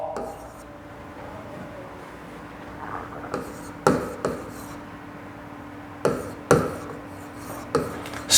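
Several short, scratchy strokes of writing on a classroom board come in brief clustered bursts, fairly close, over a quiet room with faint background noise.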